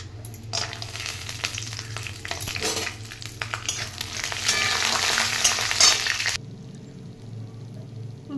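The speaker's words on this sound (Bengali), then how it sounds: "কড়াইতে কিছুটা তেল দিয়ে গরম করে নিয়েছি। এবার কাঁচা বাদামগুলো ভেজে নেব।" Raw peanuts fry in hot oil in a wok, a steady broadband sizzle with crackling and occasional stirring scrapes that swells louder midway, then cuts off abruptly to a low background hum.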